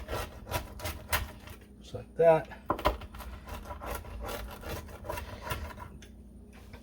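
A knife slices through a hot, crispy-bottomed sheet pan pizza with rasping, scraping strokes against the pan, cutting it into squares, with a short spoken comment mixed in.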